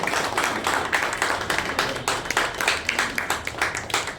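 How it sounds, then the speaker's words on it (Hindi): At an advocates' association honour ceremony, a crowd claps steadily to welcome a chief guest, giving a dense run of overlapping hand claps that keeps an even pace throughout, with faint voices underneath. "ताली बजा कर स्वागत कीजिए।"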